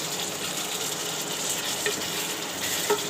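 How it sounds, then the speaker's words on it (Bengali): Meat, chicken for a roast, fries in a pan with spices while being stirred, giving a steady, loud, continuous sizzle with occasional scrape and clink of the utensil, close up and without talk. "গোস্ত আরেকটু ভেজে নেবো, নিয়ে মশলাপাতি দিয়ে দেবো।"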